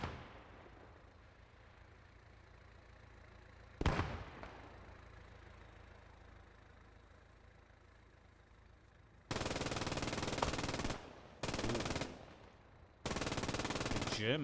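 German MG42 machine gun in the Post Scriptum war game fires in three long sustained bursts, loud and close, after a single sharp shot and a quiet stretch of distant battle ambience.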